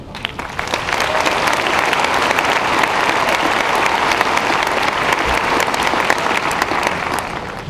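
Steady, loud applause from a large audience at a Class of 2013 commencement ceremony, congratulating a graduate, rising quickly and holding evenly before tapering slightly at the end.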